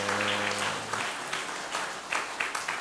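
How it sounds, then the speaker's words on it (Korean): Church congregation applauding after an infant baptism at a Christmas Sunday service, a broad wash of clapping that swells in bursts, with a sustained organ-like tone fading in the first second. "여러분들 사랑으로 박수하며"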